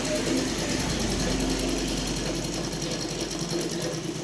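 Steady, continuous whir and rapid mechanical chatter of a sewing machine stitching fabric in a beginner stitching class, close and loud throughout with no pauses.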